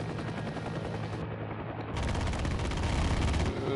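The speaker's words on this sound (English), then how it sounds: "You can see those dual machine gunners will just light up anything on their day." Dual door-mounted machine guns on a helicopter in the Heliborne combat game, rattling in sustained rapid bursts over a constant rotor drone on an Afghanistan map. The firing swells louder toward the end with no talk.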